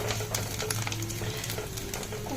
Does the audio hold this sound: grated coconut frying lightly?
yes